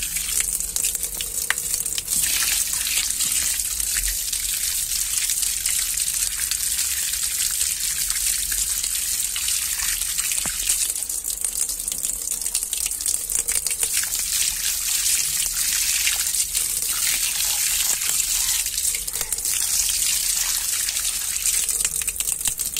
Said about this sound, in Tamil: அந்த வேரெல்லாம் கட் பண்ணிவிட்டு கழுவி காட்டுறேன்.